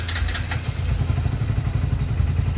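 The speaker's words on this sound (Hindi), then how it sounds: "तो बाइक हमारी स्टार्ट हो चुकी है, मस्त वाली, स्टार्टिंग बढ़िया" A Hero HF Deluxe BS6 motorcycle with a discharged battery starts and settles into a steady, close, low thumping idle with a light mechanical clatter, alone.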